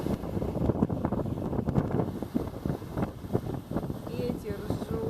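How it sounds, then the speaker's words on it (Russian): Strong wind buffets the microphone on a beach beside a stormy sea, producing a constant loud roar with gusting low rumble throughout. A person talks briefly over the wind. "Ветер жуть. Море штормит."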